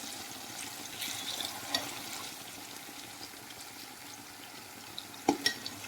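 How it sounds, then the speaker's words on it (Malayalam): Homemade herbal hair oil with karisalankanni (kayyonni) bubbling and crackling as it boils in a pan, a steady close sizzle with occasional stirring scrapes and a few sharper pops near the end, no voices. "ഇപ്പോൾ ഒരു മൊരിയുന്ന സൗണ്ടാണിതിന്."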